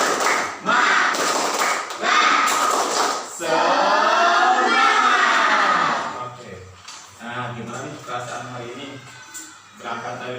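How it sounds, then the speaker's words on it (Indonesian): A classroom of students does a rhythmic spirit clap: several brisk bursts of group clapping with chanting voices, then a teacher and pupils talk and sing back and forth. "kita tepuk semangat dulu ya"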